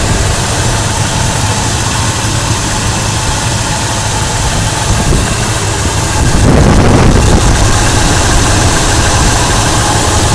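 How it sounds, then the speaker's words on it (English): A 1972 Chevelle V8 idling with relatively new headers, a loud, steady, rumbling idle that thickens briefly with a slight rev partway through, heard up close with no talking. "That's what the engine sounds like."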